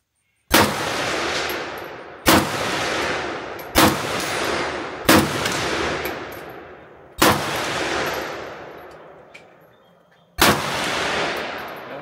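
Six sharp, loud rifle shots from a Century C39V2 ring out at uneven intervals over about twelve seconds, each one a hard crack followed by a long, echoing decay outdoors.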